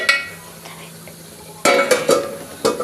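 Yogurt being stirred into a rice pulao mixture in a pot: a few sharp spoon scrapes and clinks against the vessel arrive in quick bursts in the second half, after a quieter stretch with a low hum.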